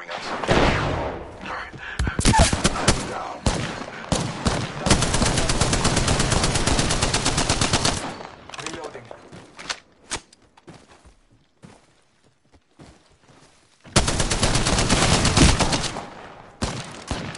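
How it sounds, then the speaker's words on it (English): Gunfire in a PS4 video game: rapid machine-gun bursts and single shots, loud and close, come in long dense stretches that break off into a near-silent pause before another sustained burst. "Shot at. Firing us."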